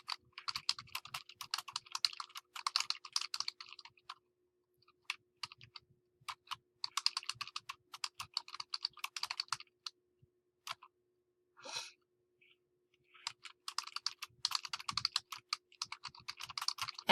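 Someone types a reply comment on a computer keyboard in quick, close clusters of key clicks. Brief pauses break them up, with one isolated scrape or click midway and a low steady hum underneath.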